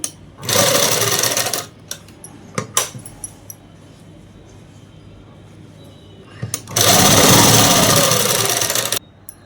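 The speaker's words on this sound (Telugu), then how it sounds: "ఇంకొక సైడ్ ఉన్న ఓపెన్ అనేది కుట్టుకుంటూ వచ్చేసేయాలి" A sewing machine stitches up the open side of a dress, running in two long, steady close-up bursts with a quiet pause of small handling noises between them.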